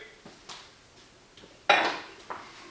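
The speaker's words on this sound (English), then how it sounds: "We'll take care of the dishes real quick and throw those away" Dishes, pots and cutlery clink and clatter as they are handled and cleared away after cooking potatoes in a Ninja Crispi air fryer, a few scattered knocks followed by one louder ceramic clang.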